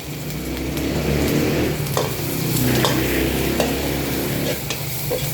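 Garlic and vegetables stir-fried in a pan for pansit kanin giniling make a steady, loud sizzle and hiss, with a few scraping knocks of the utensil against the pan.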